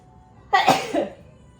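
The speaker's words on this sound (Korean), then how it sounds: "저 이제 재채기 나올 예정이에요" A single sneeze or sneeze-like cough, one sharp loud burst that trails off within about half a second, alone in a quiet room.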